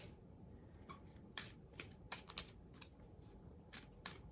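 Quiet, crisp riffling and flicking bursts, irregular and close, like a small deck of cards being shuffled, with no voices.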